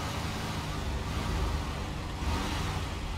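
A heavy truck engine in the SnowRunner video game, set in Scandinavia, drones loud and steady throughout, a dense continuous rumble with a slight rise in revs midway and no talk over it.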